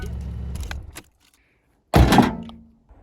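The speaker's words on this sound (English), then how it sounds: "That was the glass falling into the door." Window glass dropping down inside the door of a Ford Focus ST170 with a single loud, hollow thud and rattle, close up, after a brief stretch of quiet.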